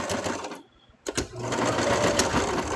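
A sewing machine stitches fabric in loud, rapid mechanical bursts, breaking off briefly for about half a second before whirring on again at full speed, up close with no talking.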